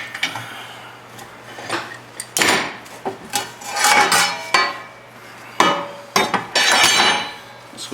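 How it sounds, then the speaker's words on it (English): Metal pipe being bent by hand with a pipe wrench on a Bronco II project, giving a series of sharp clanks, creaks and scraping knocks in irregular bursts, fairly close and loud, with no talking. "With the pipe wrench, it bends quite well."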